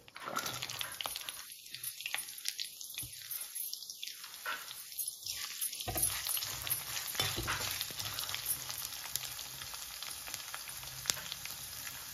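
Fenugreek seeds, dried red chillies, curry leaves and onion fry in oil for a tomato curry, a soft, steady sizzle with faint crackles and a few brief gaps early on.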